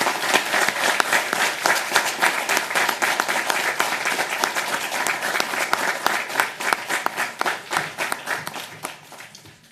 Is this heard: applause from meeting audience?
yes